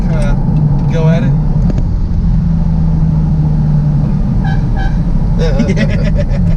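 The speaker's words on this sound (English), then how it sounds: "got the Ferrari horn." A Ferrari 456M GT Scaglietti with a V12 gives several short honks of its horn over a loud, steady rumble from the car, while people talk nearby.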